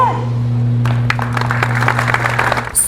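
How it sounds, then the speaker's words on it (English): Scattered clapping from a group of police officers as a fellow NYPD officer leaves a Bronx hospital after intensive care, moderately close, over a steady low engine hum. "Surrounded by applause from his brothers and sisters in blue"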